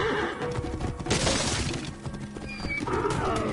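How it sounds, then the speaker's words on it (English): A horse neighing in the video game Assassin's Creed Origins during a horse race, with a loud close whinny under a busy mix of hoofbeats, crashing and game ambience. "Father loves that horse more than all the others we've raced."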